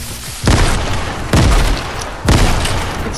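Explosions in the video game Fortnite: three loud, booming blasts roughly a second apart, each a sharp broadband burst that decays under continuous game noise.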